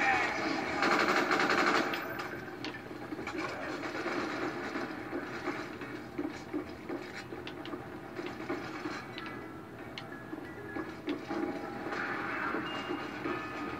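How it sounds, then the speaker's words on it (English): M16 rifle fire in Black Ops zombies, with bursts of rapid shots over a busy backdrop of game noise and steady rumble, mostly at moderate level, while someone talks throughout. "Oh, that's the M16 right there."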